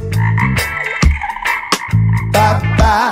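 A voice imitates a frog's croaking ribbit in rhythmic bursts over bouncy reggae music, loud and up front throughout.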